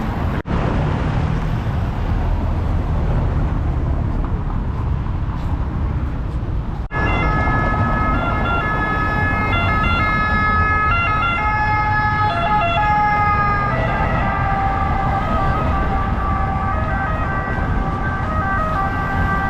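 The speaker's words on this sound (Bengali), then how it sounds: "এটা ছিল এখানকার অ্যাম্বুলেন্সের আওয়াজ" A wailing ambulance siren sounds over steady traffic noise in Rome, rising in pitch and growing louder and closer after a sudden onset, continuing throughout.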